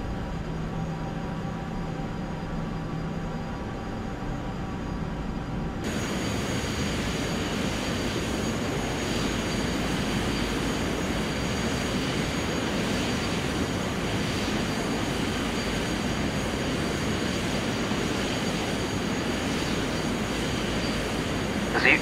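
A jet airliner taxis in Microsoft Flight Simulator X. The engines hum at first, then a steady, louder engine roar takes over after the thrust is raised and holds to the end.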